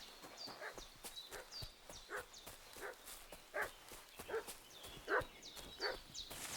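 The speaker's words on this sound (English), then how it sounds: "What's that dog making such a fuss about?" A dog barks repeatedly in the video game Kingdom Come Deliverance 2, a string of fairly distant, echoing barks spread evenly over a hushed outdoor ambience with faint birdsong.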